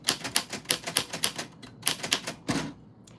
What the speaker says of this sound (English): I also love these old typewriters.